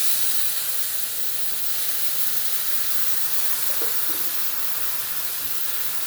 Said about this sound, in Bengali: এটা গরম হয়ে গেলে আমি এবার কিছুটা তেঁতুলের জল দেবো